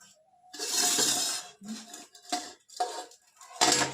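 Metal kitchenware clanks and scrapes in several separate bursts as a wok is tipped to pour off hot ghee onto a plate, close and fairly loud, with short pauses between the knocks.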